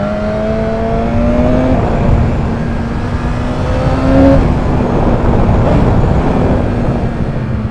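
BMW S1000RR sport motorcycle engine droning steadily at moderate revs, with a rising whine that swells briefly and settles again, loud and close with no talk over it.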